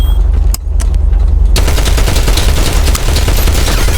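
Loud, close bursts of automatic gunfire rattle rapidly and almost without pause, following a couple of isolated sharp shots.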